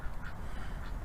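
Ducks quack in a garden over steady outdoor background noise, giving a couple of moderately loud, nasal calls close by, with no speech.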